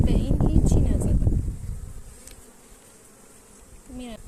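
Honeybees buzzing at an apiary hive, a dense close hum strongest at first and thinning out, with a brief voice at the end.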